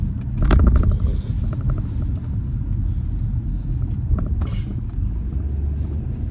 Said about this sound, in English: we're driving home now